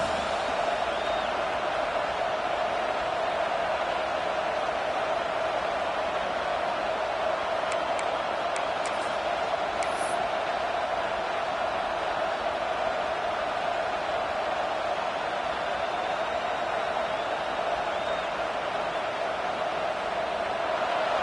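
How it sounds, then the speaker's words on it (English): The home crowd in a football video game gives off a steady, distant roar that holds at an even level throughout. A few faint higher whistles or cries rise above it partway through, and there is no clear commentary. "this home crowd is fired up and ready to make a difference today"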